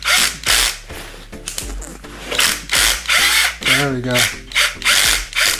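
Ratchet wrench clicking in repeated bursts while torquing rocker arm bolts during a small-block engine build, close and loud, with a brief voice near the end.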